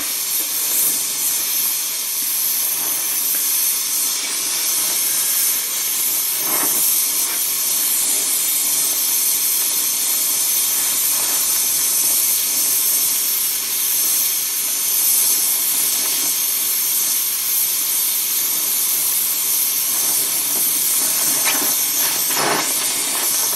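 Blowtorch heating aluminium for brazing, a steady loud roaring hiss that runs unbroken throughout with faint clicks and knocks in the background.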